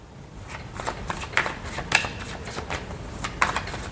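Tarot cards riffled and shuffled for a reading, a close, steady run of crisp flicking clicks with a few sharper snaps as cards are drawn.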